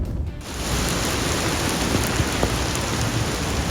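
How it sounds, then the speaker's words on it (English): Heavy rain pours down during a storm with high winds, a dense roaring wash that surges in after a brief quieter moment and holds steady, with scattered sharper drops. "that is what you call rain."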